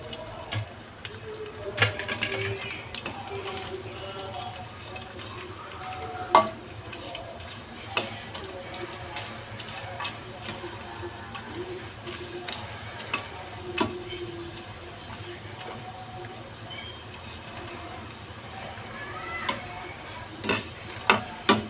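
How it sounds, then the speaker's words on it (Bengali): Rice-flour bay leaf pitha frying in hot oil in a pan: a steady, bubbling hiss throughout, broken by scattered louder pops and clinks, with no talking over it. "তো তেলটাও কিন্তু গরম হয়ে গেছে। এবার পিঠা দিয়ে দেবো।"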